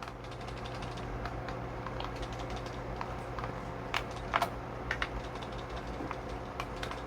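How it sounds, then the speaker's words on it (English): Buttons and triggers of an R46S handheld game console rattle as it is shaken, producing faint, quick plastic clicks and ticks in irregular bursts over a low background hum. "Yep, there's just rattle all over."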